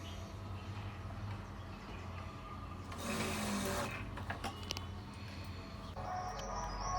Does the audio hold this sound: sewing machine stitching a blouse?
yes